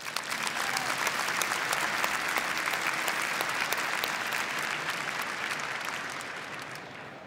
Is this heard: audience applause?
yes